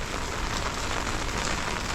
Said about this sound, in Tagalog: Hanggang ngayon umuulan.